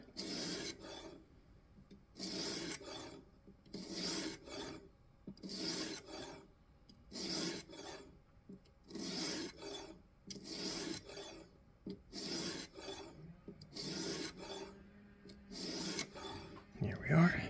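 Rhythmic rasping strokes of a stone on a knife bevel in a guided sharpening system, about a dozen even back-and-forth passes, close and fairly quiet with brief pauses between strokes.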